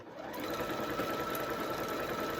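A sewing machine runs a stretch stitch on fabric, a continuous fast mechanical whir and clatter that starts almost immediately and holds steady, close and alone.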